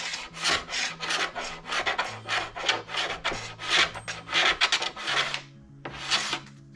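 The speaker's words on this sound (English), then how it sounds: "and then scrape one more time, and I think it should be fine." Steady, rhythmic scraping strokes of a blade over a P-Tex repair patch on a ski base, close and fairly loud, repeating roughly twice a second with a brief pause near the end and no talking.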